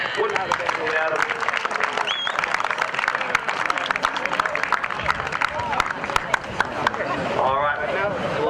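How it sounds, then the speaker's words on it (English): Crowd applauding referees at a rugby match between WA men's state team and England Community Lions, scattered outdoor clapping with sharp individual claps and crowd chatter mixed in. "Big round of applause for our referees one more time."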